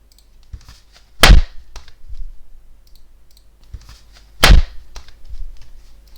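A cardboard box struck to mimic a grenade explosion for a game: two sharp, loud thumps several seconds apart, each with a short low rumble, with faint handling noises between them.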